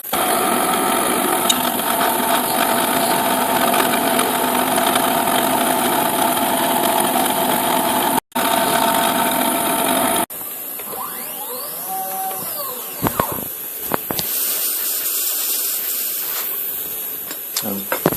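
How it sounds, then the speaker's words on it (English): Milling machine cutting an injection mold with a 3mm cutter at 1mm depth: a loud steady whirring drone with a high cutting whine, then a brief drop and a changed, more broken machine tone. "3mm cutter, 1mm deep. It should cut nice and clean"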